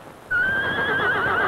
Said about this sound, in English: It's one of the Arab horses has broken loose.